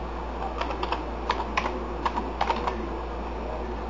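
Light clicking keystrokes on a computer keyboard as a short word is typed, in irregular small clusters, close and soft over a low steady hum.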